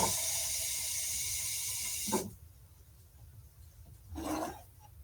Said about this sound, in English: One part vinegar, one part water coming up.